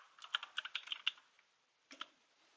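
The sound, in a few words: typing NetBeans into Google search on a computer keyboard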